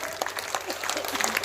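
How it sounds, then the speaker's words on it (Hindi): An audience at a Hindi stage event claps in a dense, steady burst of applause that carries evenly through the moment with no clear voices over it. "एक बार जोरदार ताली बजा दीजिए।"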